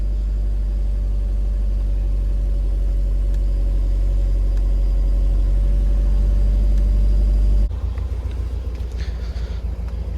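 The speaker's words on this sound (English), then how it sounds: "The car is warming up" A Subaru Legacy Spec B engine idles while warming up, a steady, close low rumble with an even drone that drops and roughens for the last couple of seconds.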